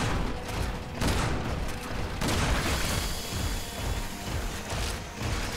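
Sustained machine-gun fire from monsters in the video game Resident Evil 6, a dense, continuous loud rattle of shots mixed with booms and crashes throughout.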